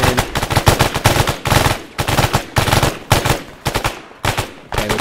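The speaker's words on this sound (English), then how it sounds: "I still hear some firing coming from the direction of that checkpoint. Yeah, sounds like a 249." Sustained bursts of M249 machine gun fire in the Arma 3 video game, loud and close, rattling in rapid rhythmic volleys with brief pauses between strings of shots.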